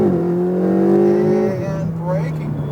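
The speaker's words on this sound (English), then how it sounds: "now let's go ahead and accelerate to the red cones" Ferrari 488 on a raceway revs hard as it accelerates, a loud rising engine tone that drops at an upshift and picks up again, close by, with some talk over it.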